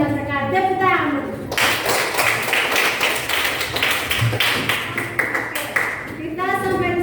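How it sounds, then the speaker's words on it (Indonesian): A classroom full of students clapping in a fast, even burst, bracketed by someone talking just before and after. "Tepuk tangan"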